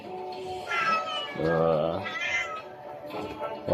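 A cat meows several times in drawn-out, whining calls, fairly close and loud, with a final short cry at the end.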